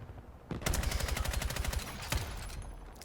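Rapid automatic gunfire in the video game Battlefield 6, long sustained bursts of closely spaced shots starting after a brief quiet moment, loud and close, with a short pause before firing resumes.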